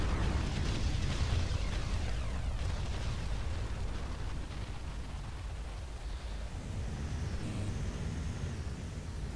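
Explosions from an enemy Hoverdyne destroyed in the video game Ground Control give a dense, rumbling blast with bursts and crackling noise, loud and sustained across the clip without talk.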